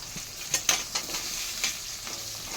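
Capsicum dropped into a pan of frying onion, garlic and slit green chillies sizzles steadily while a spatula stirs, giving several sharp scraping taps against the metal.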